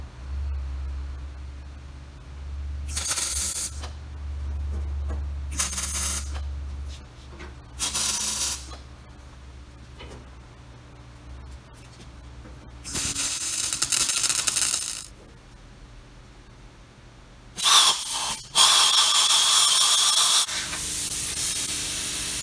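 A plasma cutter cutting metal pipe on a gasifier hopper gives several separate bursts of harsh, loud hissing, each a second or two long. Quiet gaps with faint shop noise fall between the cuts, and the longest roar comes near the end.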